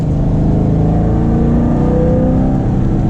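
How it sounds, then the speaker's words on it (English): A 2014 Corvette C7 with a manual gearbox and aftermarket exhaust revs loudly and close, a dense, continuous engine roar with layered exhaust harmonics filling the whole stretch. "It has an aftermarket exhaust, not the Chevy Performance exhaust."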